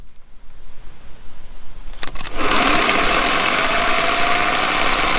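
A car starter motor, tested off the vehicle and powered by a car battery through jumper cables, clicks and then spins up into a loud, steady high-pitched whirring whine that holds for several seconds, close by with no talking.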